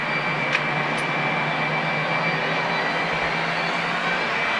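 Jet engine on an aircraft rising as the throttle is eased forward, a loud steady roar with a whining tone holding throughout, close and continuous, no talking.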